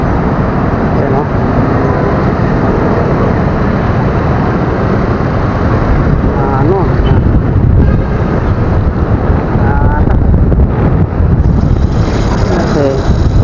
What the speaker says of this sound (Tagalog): Ang lakas ng hangin, grabe.